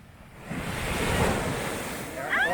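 Ocean surf washing onto a beach at night, a rushing swell of water that builds and holds, close and fairly loud with wind noise on the microphone.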